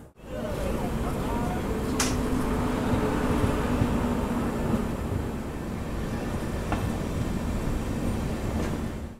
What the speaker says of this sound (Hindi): चलिए फाइनली 10 मिनट डिले के साथ निकल चुके अपने fourth and last station Punjab के धनदारी कलां रेलवे स्टेशन से